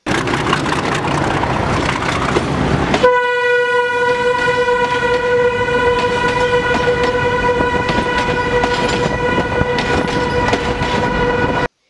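A train rolls over an old British-era railway bridge near Chiniot, a loud roaring rumble with clattering wheels, joined after a few seconds by a long sustained horn blast that holds to the end.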